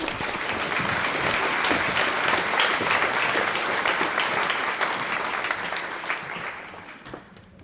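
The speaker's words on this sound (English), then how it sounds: "a nice round of applause for Mabel" Sustained applause from an audience inside Enniskillen Cathedral at a Women's Institute Armistice centenary event, dense steady clapping filling the space before thinning and fading out at the end.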